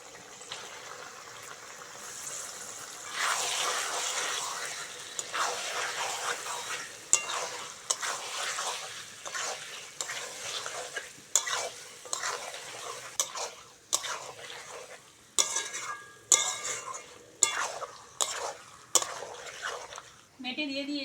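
Chicken liver sizzles in a hot pan for a masala, with a spoon stirring it and repeatedly scraping and tapping the metal. The taps are sharp and come close together near the end, and there is no talk.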